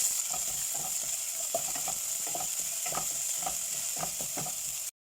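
Onion and garlic sautéing in olive oil for lentil soup, a steady hiss of frying with soft stirring scrapes at close range, continuous until an abrupt stop at the end.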